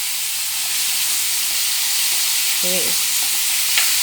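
Boiled eggs with turmeric and salt fry in hot oil with a loud, steady sizzle and hiss that runs throughout, while a voice speaks briefly.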